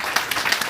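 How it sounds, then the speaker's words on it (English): An audience at a climate discussion event claps briefly, a short burst of applause with scattered individual claps. "Give her a round of applause."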